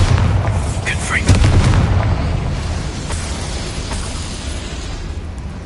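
Spells cast in a video game set off a loud, sustained blast of booming explosions, dense rumbling and crackling that fills the clip from start to finish.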